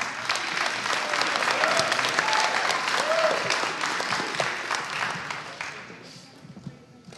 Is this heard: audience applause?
yes